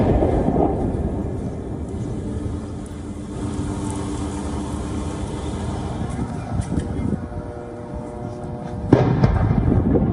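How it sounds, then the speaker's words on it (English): An explosion in a residential area of Gaza City comes through as sustained deep rumbling and roaring, with a sharper thud near the end; no clear separate blasts stand out against the continuous low noise. "Visuals coming in of an explosion at a residential area in Gaza City"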